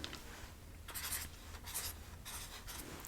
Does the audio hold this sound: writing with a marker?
yes